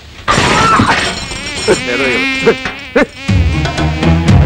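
A housefly buzzes in a comedy film scene, a loud close whining drone that wavers and rises in pitch, broken by short sharp bursts near the end.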